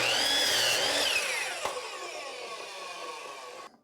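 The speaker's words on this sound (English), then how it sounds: "stack them on top of the miter saw and match the blade up with the end of the one that you cut and cut the other ones" A miter saw cutting through stacked wood pieces: a single loud whining cut with the blade pitch sagging as it bites, then spinning down and cutting off abruptly.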